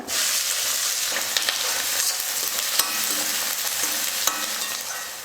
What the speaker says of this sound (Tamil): 2 வெங்காயம் பொடியாக கட் பண்ணி எடுத்துருக்கேன், அதையும் சேர்த்துக்கிறேன்.